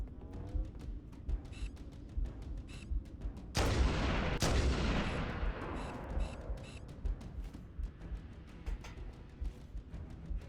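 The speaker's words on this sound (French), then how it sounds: "Je vois même pas d'où ils viennent les tirs." Video game gunfire in Halo: Combat Evolved Anniversary, a steady patter of rapid shots with one heavy blast that rumbles and fades, all at moderate loudness with no speech.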